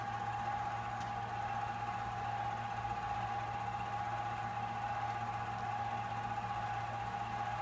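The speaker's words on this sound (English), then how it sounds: "We allow that wire to feed through our gun until we see it come out of our gun here." A flux-core welder's wire feeder pushes wire through the gun liner with a steady, quiet motor whine and a constant hum throughout, no talk.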